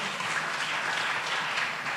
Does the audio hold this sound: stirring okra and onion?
no